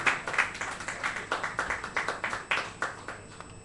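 An audience claps for a musician after his performance at the RMA, a small crowd's uneven, distinct hand claps close by that thin out and fade toward the end.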